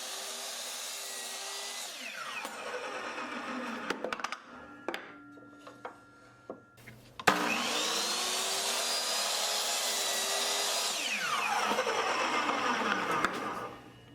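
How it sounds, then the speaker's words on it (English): A table saw cuts a piece of scrap board into equal lengths for a patio side table. The blade whines up to speed and cuts, then quiet clunks follow. A second long, loud cut comes next, and the motor spins down afterward. Nobody talks. "I'll cut 2 equal lengths out of this scrap board."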